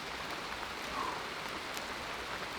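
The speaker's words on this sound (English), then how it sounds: "Sound of the rain is just," Rain falls steadily through a rainforest canopy of moss and ferns, a soft, even patter that stays constant and close throughout, with no voices.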